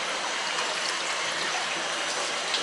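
Water running and draining through a fine-mesh net at a fish hatchery, a steady broadband rush that stays even and fairly close throughout, with no talk over it.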